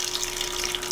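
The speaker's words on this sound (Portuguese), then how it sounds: "Quando terminar de encher a água, olha aqui pra mamãe." Tap water gushes steadily into a washing tub being filled for laundry at home, a continuous close splashing rush with a steady tone and no voices.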